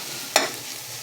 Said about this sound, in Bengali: শাক ভাজা খুব তাড়াতাড়ির মধ্যেই হয়ে যায়।